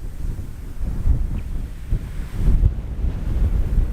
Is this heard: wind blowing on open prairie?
yes